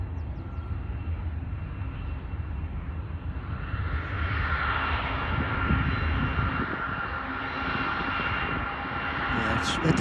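Union Pacific freight train cresting the summit at Cajon Pass with a rear helper locomotive pushing, a steady distant diesel rumble swelling midway, while people talk over it.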